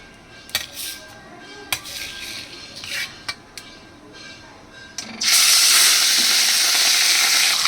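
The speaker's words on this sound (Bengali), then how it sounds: "তেলটা আমার গরম হয়ে গেছে, তেলের থেকে ধোয়া উঠছে। এবার আমি এর মধ্যে দিয়ে দিচ্ছি মাছগুলো একে একে" A few sharp clinks and taps, then a sudden loud burst of smoking-hot oil sizzling as rohu fish pieces are dropped into the pan one by one, continuing strongly to the end.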